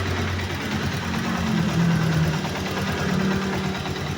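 A motorcycle engine with a damaged clutch housing idles steadily nearby, a low mechanical hum with a faint whining tone rising slightly midway.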